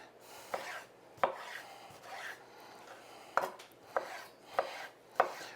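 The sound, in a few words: knife chopping food on a cutting board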